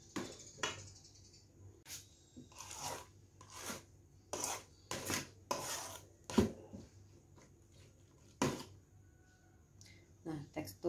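Tenggiri fish pempek dough is stirred and scraped in a bowl in irregular bursts of rubbing and scraping, close and moderately loud, with short pauses between strokes.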